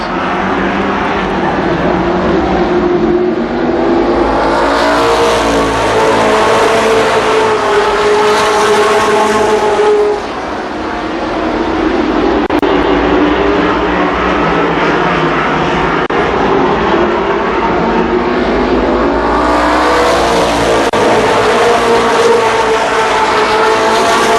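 Race cars at Columbus Motor Speedway roar around the oval in a continuous loud engine drone, pitch swelling and falling as the pack passes close, with a brief dip near the middle before the roar rebuilds.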